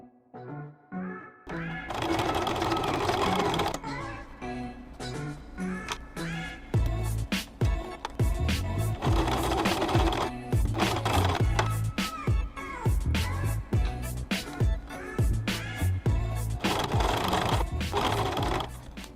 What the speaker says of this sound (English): I'm just going to sew all the edges